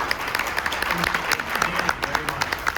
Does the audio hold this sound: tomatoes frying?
no